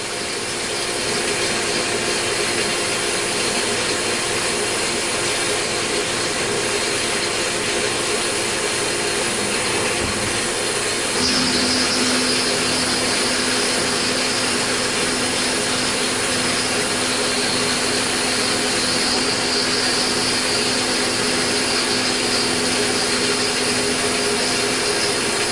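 A milling machine takes a spring pass on a ball nut mounting block, giving a steady, loud mechanical whir and grind with a continuous tone that shifts about halfway through, running without talk.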